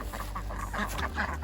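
Ducks on a farm pond quack in a busy, continuous chatter of overlapping calls, close and fairly loud with no talk.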